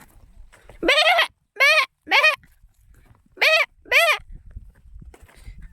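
Goats bleat five times in short, loud, close calls, with quiet stretches between them, beside a river in rural Konkan. Faint background noise sits between the calls.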